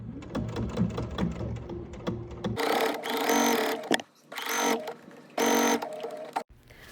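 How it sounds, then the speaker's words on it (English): A sewing machine top-stitches along the lower edge of bias tape on the front of a tennis bag pocket, running in several loud bursts separated by short pauses. "The front of the pocket, you're going to top stitch close to the lower edge of the bias tape."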